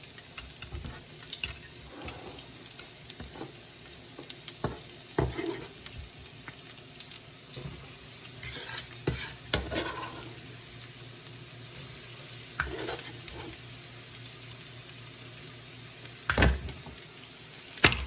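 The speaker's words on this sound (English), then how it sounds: "I'm just gonna now toss in my mushrooms because I do want these to saute before I make the sauce for the greens." Mushrooms sautéing in bacon grease: a low sizzle with occasional scrapes and clatters of a utensil in the pan, fairly faint, no talk.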